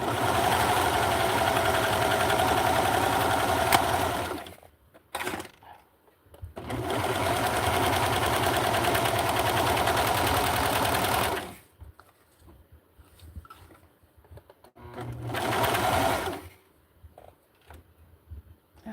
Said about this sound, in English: I'm going to use the serger here on this end right now